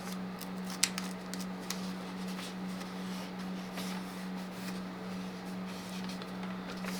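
An envelope holding a letter is cut open with scissors in a series of quick, close snips over a low, steady background hum, with no talk.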